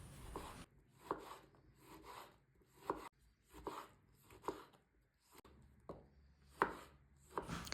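Tomatoes are chopped into medium pieces with a knife on a board, soft wet cuts and sharper board taps in an uneven rhythm, close and fairly quiet.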